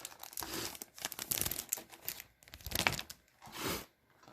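Plastic and cardboard packaging of collectible trading cards being opened, with a run of crinkling and tearing bursts close up, uneven and busy, with no talking.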